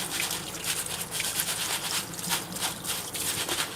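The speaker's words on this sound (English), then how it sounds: "Scrub it right up against the mesh of this wire strainer" Red beans are scrubbed against the mesh of a wire strainer, likely under running water, making a steady wet, bristly scratching with rhythmic strokes close by and no voices.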